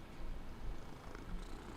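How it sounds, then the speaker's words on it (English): A pet cat purrs close up, a soft, continuous, low rumbling that pulses steadily with its breathing. "You want to hear him purr?"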